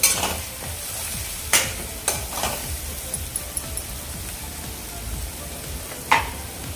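Spices sautéing in a pan over a medium flame for an eggplant and potato dish give off a constant close sizzle, broken by several sharp scrapes and clinks of the stirring spoon. No one speaks.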